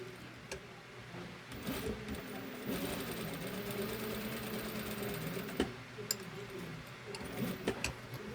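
A sewing machine stitches the pocket seam of a jacket or blazer handkerchief pocket, a close, steady ticking run with a few brief pauses and some faint handling sounds.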